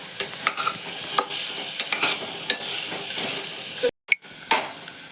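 Misal masala roasts in oil in a pan with a steady sizzle, broken by frequent sharp spoon scrapes and stirring clicks, plus a brief clatter near the end.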